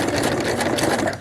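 A sewing machine running steadily as it zigzag stitches a pants waistband, a fast continuous whirring rattle close by that fades out at the end.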